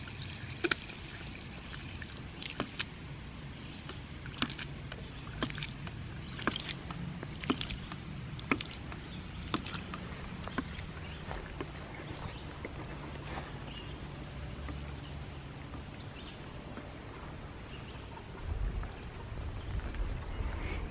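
A ram pump running outdoors: water sloshes and trickles steadily while the pump's valve gives a series of sharp, regular knocks early on, thinning out later, with low rumbling flow throughout.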